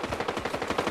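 Rapid automatic gunfire from the video game Fortnite, a fast rattling burst of shots at moderate distance, continuous through the brief moment with no talk.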